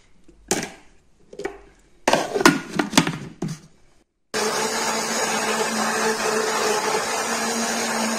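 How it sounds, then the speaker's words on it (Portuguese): A few knocks and clatters, then a blender switches on and runs steadily and loudly, grinding peanuts with water with a dense, even roar until the end. "vamos passar tudo aqui no liquidificador"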